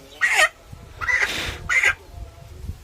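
A chicken at a poultry shop gives three loud, close clucks in quick succession, each a short raspy burst, with faint background noise between them.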